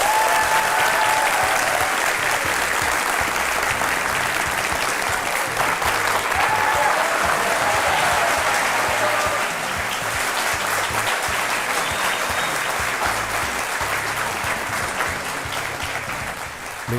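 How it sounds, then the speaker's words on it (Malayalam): A studio audience at a Malayalam television courtroom-style talk show applauds with sustained, loud clapping that holds steady for most of the stretch and eases slightly toward the end. "നിങ്ങളുടെ കയ്യടി തുടർന്നുകൊണ്ടേയിരിക്കുക."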